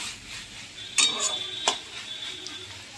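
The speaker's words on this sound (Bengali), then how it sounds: "এবারে এটাকে আর একটু নাড়িয়ে চাড়িয়ে তারপরে নামিয়ে নেব" A spoon stirs Malabar spinach (pui shak) curry with a little sugar in a pan, giving a few sharp metallic clinks and scrapes over a soft sizzle, close and fairly quiet.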